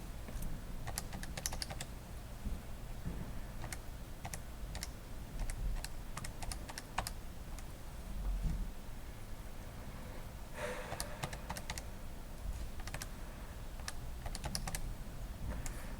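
Someone types an equation on a computer keyboard, a quiet run of close, crisp key taps in uneven bursts over low room hiss, with no talk.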